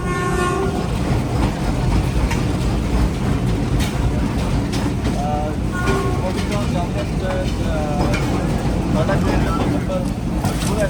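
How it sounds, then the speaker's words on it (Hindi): The Jafar Express passenger train stands at a busy station. Rumbling carriages, clanks and short horn-like tones sound close by, with crowd chatter running underneath throughout. "तो दोस्तों जाफर एक्सप्रेस खड़ी है।"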